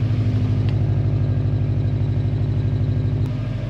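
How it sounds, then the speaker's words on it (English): A Subaru WRX with an aftermarket exhaust idles close by, a steady, deep, throbbing burble holding evenly throughout, alone with no talk. "There's also a really nice sounding exhaust on this that was on it when I bought it."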